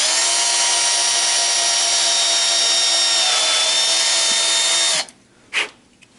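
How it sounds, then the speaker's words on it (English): Power drill with the bit from a rivet kit bores a rivet hole in a homemade appendix carry holster, a loud steady whine for about five seconds, then stops, followed by a faint handling knock. "this drill bit I'm using came with my rivet kit"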